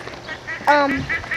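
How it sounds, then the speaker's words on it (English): Geese and ducks at a pond with a stream, giving a few nasal honks and quacks in a short burst after quieter calls, fairly close and clear over faint outdoor background. "There are white ducks, there are geese"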